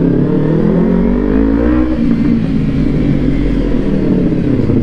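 Motorcycle exhaust revving hard with a loud, deep bass rumble, close and continuous throughout, the engine note swelling and easing slightly.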